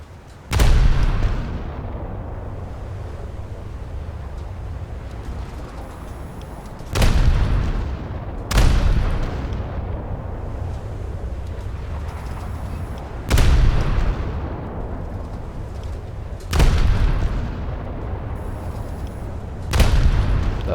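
A warship's guns in a naval combat video game, with a Cleveland cruiser and the battleship Arizona, fire six heavy booming salvos at irregular gaps. Each boom rolls off into a rumbling background, with no voices.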